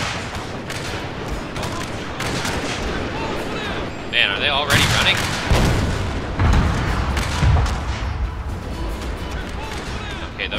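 Musket volleys and booming cannon fire from a strategy battle game crackle and thud in bursts, loudest midway, while someone talks over the fighting.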